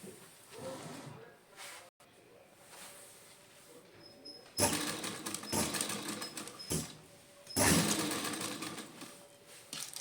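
Sewing machine stitching bead (pearl) lace onto fabric, its motor whirring in bursts that start and stop several times, loud and close, with quiet handling sounds between runs.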